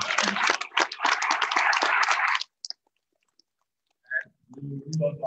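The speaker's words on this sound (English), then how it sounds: "May we give a round of applause to the distinguished panel." Applause for a distinguished panel at a conference plenary session, a dense burst of clapping for about two and a half seconds that stops abruptly, followed by silence and then faint sounds.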